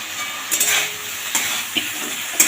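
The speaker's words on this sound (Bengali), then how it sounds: "আবারও ভালোভাবে কষিয়ে নেব" Spice paste with green chillies stir-fried for a Bengali fish curry, a close, steady sizzle broken by a few scrapes and clinks of a spoon against the pan.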